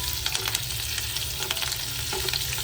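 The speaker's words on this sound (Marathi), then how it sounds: "आपली फोडणी मस्तपैकी तडतडलेली आहे" Steady sizzling of tempering spices in hot oil for paneer bhurji, with sharp crackles and pops scattered throughout, close and fairly loud.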